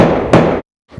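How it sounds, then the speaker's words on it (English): A wooden peg is driven into a corner cabinet joint with a couple of heavy, close knocking strikes that cut off into silence, followed by a softer tap. "And drive your peg."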